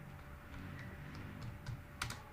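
Someone types a database query on a computer keyboard, giving quiet, irregular clicks close by that grow briefly louder toward the end, with no voice heard.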